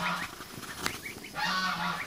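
Geese honk on a farm with a few short nasal calls, fairly close but quiet, over faint outdoor background sound.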